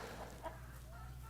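Chickens in a straw yard make soft, faint clucks over steady outdoor background noise in a short stretch of sound.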